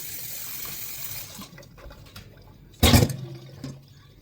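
Pork bones are washed under a running kitchen tap, with a steady flow of water that eases off, then a sudden loud splash and rattle before the water quiets again.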